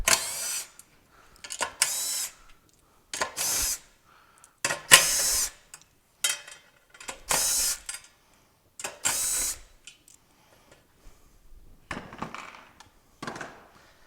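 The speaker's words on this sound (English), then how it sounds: "What we will do is take a 10mm socket, remove the screws" A 10mm socket works screws loose on an ASL 110V LPAP auto-pulsing vacuum during a part replacement, giving short separate bursts of close mechanical ratcheting and clicking with quiet gaps between them.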